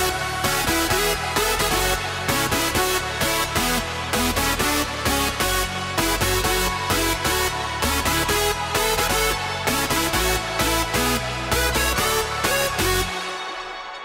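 Dense, loud layered hardstyle synth lead plays a driving electronic pattern with punchy repeated hits and full bass, stopping abruptly near the end.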